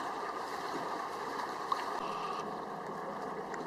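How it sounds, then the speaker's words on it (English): A boat moves through Malibu Rapids, a steady broad wash of churning current and hull noise with no voices. "We got the first boat going into Malibu Rapids."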